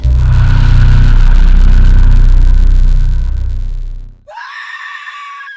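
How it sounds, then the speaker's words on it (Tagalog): A loud, prolonged scream in a Filipino horror story, harsh and sustained over a deep rumble for about four seconds, then cutting abruptly into a thinner, piercing high screech. "Sigaw ni Lisa."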